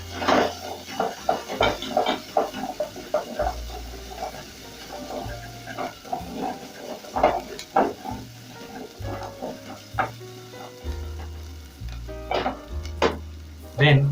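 Onions and ginger sizzle in a pan with intermittent scraping and stirring clatters from a utensil, a moderate frying hiss running throughout with sharp knocks scattered across it.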